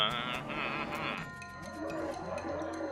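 Cattle in the video game West of Loathing give a drawn-out, bleating moo that fades into gargly low grunts, loud and close over a steady game background.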